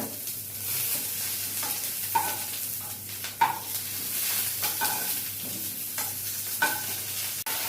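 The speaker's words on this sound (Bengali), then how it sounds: "এর মধ্যে আদা লঙ্কা বাটাটা আমি দিয়ে দিলাম, হিংটা দিয়ে তেলের মধ্যে।" Ginger-chili paste and asafoetida dropped into hot oil for a potato curry, with a steady hissing sizzle, faint stirring knocks scattered throughout and one sharp click near the end.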